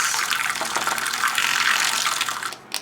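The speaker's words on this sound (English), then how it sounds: "Swish it around in your clean water" A paintbrush is swished through a container of clean rinse water during encaustic painting, giving a close, busy sloshing and trickling that runs steadily for a few seconds, then stops abruptly.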